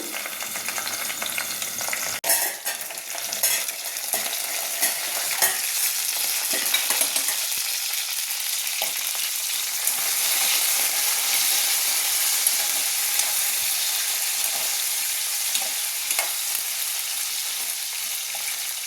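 Ivy gourd with tamarind simmers in a covered pan over a low flame, giving a steady, soft sizzling hiss with occasional small pops and clicks that run unbroken for the whole stretch.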